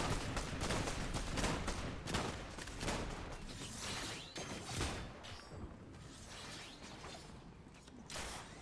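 Gunfire in the video game Fortnite, rapid faint bursts of shots with mechanical clicks, continuing throughout without talking.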